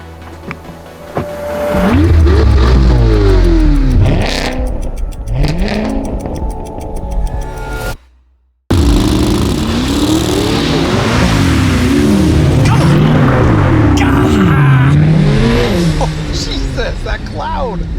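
A 2025 Corvette ZR1 launches hard in a drag race, its engine screaming up through repeated rising revs and gear changes, loud and close, with a brief cut of silence mid-run and a voice talking over it.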